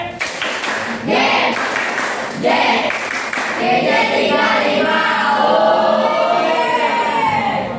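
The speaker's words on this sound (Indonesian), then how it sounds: "Tepuk gede." A primary school class claps loudly and rhythmically in unison at the teacher's request, a dense burst of hand claps up close, with children's voices chanting and shouting along.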